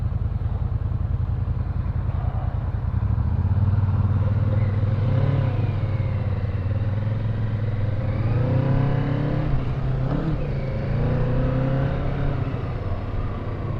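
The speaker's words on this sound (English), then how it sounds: "I wanted to see how this engine performs" A motorcycle engine drones close and loud throughout, rising in pitch as it revs and accelerates, with some mechanical clatter and no talk.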